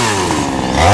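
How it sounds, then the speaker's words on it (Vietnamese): Chainsaw running steadily at close range, trimming small lower branches off a star tree (cây sao) wedged in a cramped spot between two gardens, the engine droning loud and continuous with a slight rise at the end. "đang cưa bớt mấy phần nhánh nhỏ nhỏ phía bên dưới"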